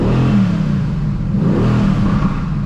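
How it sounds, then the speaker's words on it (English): A Mercedes AMG GTC with loud exhaust pipes idles and revs in sport mode, giving a continuous, close, heavy engine drone that swells briefly and stays strong throughout. "Start up in sport mode. As you heard the loud pipes, let's give it a nice little rev here."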